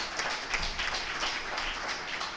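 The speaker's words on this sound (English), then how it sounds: "Please let's give her a round of applause." Applause at a bar association law week event, a steady wash of clapping from an audience, moderately distant and fairly even throughout with no talk over it.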